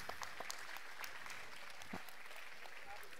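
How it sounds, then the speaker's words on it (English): A crowd at a horse show colt starting challenge awards applauds the trainers. The clapping is faint and distant, a sparse, steady patter lasting a few seconds. "can I get another big round of applause for all my trainers?"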